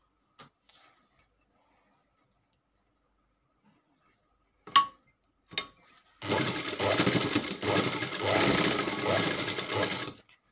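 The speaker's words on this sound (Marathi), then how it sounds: "फिटिंग करताना शिलाई मागं पुढं 1-2 वेळा फिरवायचं." Sewing machine stitching a blouse fitting at the waist and sleeve seams runs in one steady, loud continuous whir for about four seconds, after a few scattered clicks and handling knocks.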